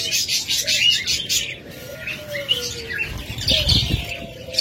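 A pair of albino budgerigars chirps and twitters in rapid bright bursts, close and fairly loud, over a low rumble of background noise.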